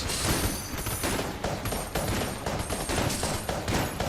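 Rapid fire from fire weapons in the video game Enter the Gungeon, a dense continuous barrage of shots and bursts during a boss fight, loud and unbroken with no speech.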